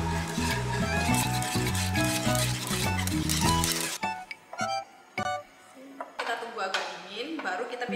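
A spoon scrapes and stirs thick choux pastry dough in a pan as it cooks and thickens, the soft scraping and knocking following a stretch of background music.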